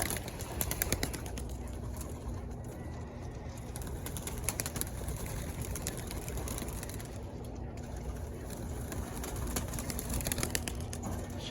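Pigeons coo softly in a settling cage, a faint low murmur of calls with occasional wing flutters, heard at a distance and fairly quiet throughout.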